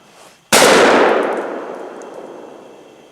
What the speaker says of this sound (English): he's gonna shoot it now